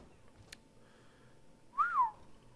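A person whistles close to a microphone, a single short rising-and-falling whistled note after a faint click, alone against quiet room hiss.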